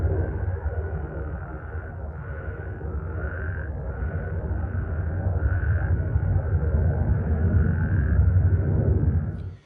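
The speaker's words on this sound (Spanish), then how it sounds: "les tomó a las ranas 45 minutos completos recuperar su coro sincronizado" A dense frog chorus croaks steadily under a low jet rumble, with repeated synchronized pulsing calls rising and falling in a regular rhythm throughout.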